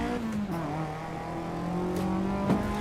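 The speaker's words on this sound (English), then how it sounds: "It sounds like a 4AG." Race car engine revving in the Assetto Corsa Evo racing game, with a high-revving four-cylinder tone like a Toyota 4AG, holding a steady loud drone with a brief sharp blip near the end.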